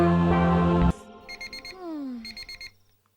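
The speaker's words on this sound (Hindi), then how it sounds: "अलार्म बज रहा है, उठ जाइए" An alarm clock rings in a series of short, bright electronic beep bursts after a sudden cut from louder music, ending in quiet.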